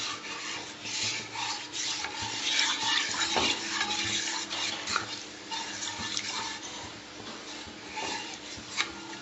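A milk-based mixture stirred continuously in a pan, a close rhythmic rubbing and scraping of the spoon against the pan over a soft sizzle, steady throughout with no talk.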